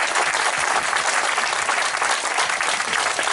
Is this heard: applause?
yes